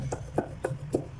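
Dried black ear mushrooms being chopped for a bamboo shoot stir fry, four crisp knife strikes against a board in a steady quick rhythm, close and distinct over a low hum.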